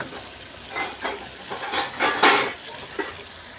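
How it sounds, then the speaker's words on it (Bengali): Water poured into a pan of frying spice mix for a Bengali fish curry, giving bursts of loud sizzling hiss with clinks of a utensil stirring, close up and without speech. "আমি কিন্তু জল দিয়ে দিচ্ছি।"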